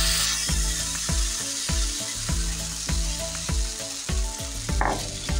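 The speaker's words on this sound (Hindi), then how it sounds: "अभी डालेंगे हम इस पर बैटर।" Moong dal batter meets a hot, oil-greased tawa with a loud, continuous sizzle, broken by repeated clacking knocks of a spoon against the griddle at a steady rhythm. No one speaks.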